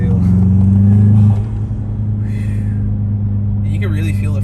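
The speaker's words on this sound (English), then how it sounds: "You hear that? Yeah, the intake really breathes." A 2021 Volkswagen Jetta GLI engine rumbles loud and close with its intake breathing, a strong steady drone that swells briefly before easing to a lower hum, with people talking over it.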